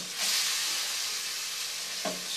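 Frozen ground meat in a frying pan: a steady, bright sizzle and hiss throughout, with a brief stirring scrape near the end and no talking.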